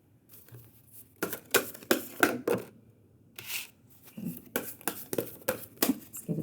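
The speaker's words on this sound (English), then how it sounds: "So let's shuffle and see what the cards have to say." A deck of tarot cards is shuffled by hand at close range. Crisp papery riffles and slaps come in quick rhythmic bursts, separated by brief quiet gaps.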